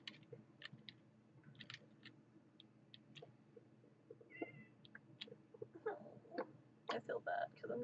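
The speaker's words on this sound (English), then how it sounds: "Cat." A Minecraft cat gives short meows from the game, scattered through the stretch. Brief clicks and other game noises sit between them, and a few louder bursts come toward the end.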